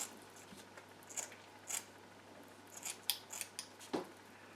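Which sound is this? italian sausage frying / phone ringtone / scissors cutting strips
scissors cutting strips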